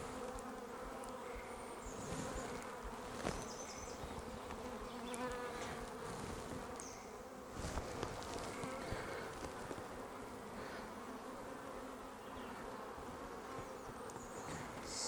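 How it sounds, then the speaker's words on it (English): A dense, steady hum of many bees buzzing close by at an opened hive, with individual insects droning past now and then. "Got a couple bees here that aren't overly impressed with me."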